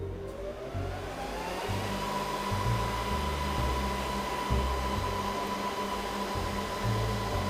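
Server fans in an nVidia GRID/Tesla gaming server, modified to spin at 12,500 RPM, produce a loud, steady high-pitched whine over a broad rushing roar, with a tone that climbs at the start and then holds constant.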